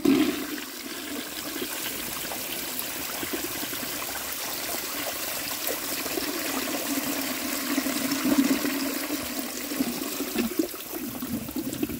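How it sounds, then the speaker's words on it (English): A 1905 forward trap toilet flushing after its tank refills, a steady rushing and gurgling of water that runs evenly for about twelve seconds, close and moderately loud with no talking. "Alright, the tank's all filled up, let's give it a flush."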